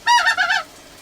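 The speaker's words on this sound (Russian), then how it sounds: "А здесь гуси кругом, да?" A single goose honk on the Arctic Ocean coast during a goose hunt, a loud nasal call lasting about half a second with a brief break in the middle, close by, followed by quiet.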